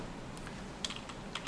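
A computer keyboard is tapped quietly during Java coding, with a few soft, scattered key clicks over a faint background hush.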